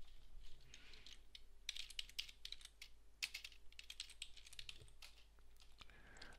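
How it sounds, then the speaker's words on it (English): Quiet, close typing on a computer keyboard while entering commands in PowerShell, a steady patter of soft key clicks with brief pauses between bursts. "let's type in the instructions to do a comparison of all three"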